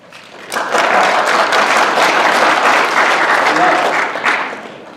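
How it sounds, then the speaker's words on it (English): Audience at a real estate investors' association meeting breaks into loud, sustained clapping that swells quickly, holds for several seconds, then tapers off. "Everyone give a round of applause."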